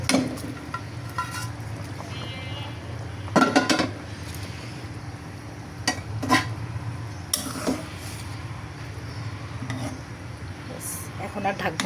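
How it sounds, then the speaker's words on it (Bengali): Fried rohu fish pieces are dropped into a thin simmering curry, giving a few soft splashes and clatters over a steady low bubbling and stirring. "এখন আমি এর মধ্যে ভেজে রাখা মাছগুলো দিয়ে দিব।"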